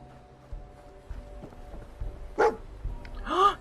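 Dogmeat, the dog companion in the Fallout 4 Far Harbor video game, lets out two short barks a second apart, set over quiet in-game footsteps and ambient noise.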